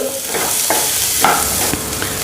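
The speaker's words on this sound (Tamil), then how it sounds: "இதோடு சேர்த்து இந்த வெங்காயம், ஒரே ஒரு பச்சை மிளகாய், இதை போட்டுருங்க. இது கொஞ்சம் நிறம் மாறுற வரைக்கும் வதக்கிக்கலாம்." Onion and a green chili sauté in a pan with a loud, continuous sizzle close by. Spatula strokes stir the pan at irregular intervals.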